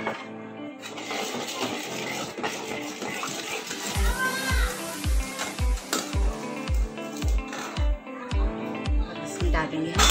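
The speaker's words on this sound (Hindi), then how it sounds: "2 टेबल स्पून तेल डालेंगे। इसमें थोड़ा सा हम लाल मिर्च पाउडर डालेंगे" Red chili powder sizzles in two tablespoons of hot oil while being cooked for keema capsicum, with a steady frying hiss under rhythmic scraping and clinking of a spoon against the pan, and a voice speaking over it.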